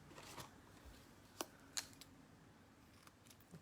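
Ribbon being cut with scissors during a craft project, with a couple of sharp, brief snips standing out against a very quiet background, close by.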